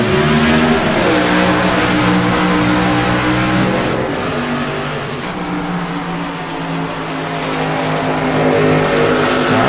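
Several race cars accelerating together at a green flag start, engines roaring loud and close in layered rising drones, dipping briefly midway before surging again as the field pulls away.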